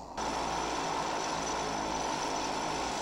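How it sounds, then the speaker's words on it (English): An airplane in a Breaking Bad episode: a steady, loud engine drone with a broad rushing roar that holds evenly throughout, setting in just after a brief quieter start. "Oh, in an airplane."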